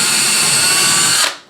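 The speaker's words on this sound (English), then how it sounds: "Watch out, I'm coming through with a drill." A power drill drives a screw into wood, whirring loudly and steadily at close range for about a second, then cuts off abruptly as the motor winds down.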